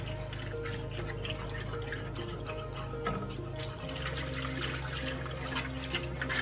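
Water poured into a soup pot for chicken pot pie soup, a soft splashing trickle under a low background hum in a kitchen.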